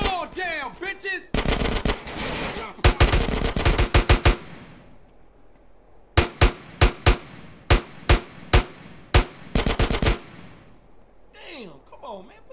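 Gunfire in GTA: San Andreas, loud bursts of rapid automatic shots followed by a string of separate evenly spaced single shots, with game voices speaking between the volleys.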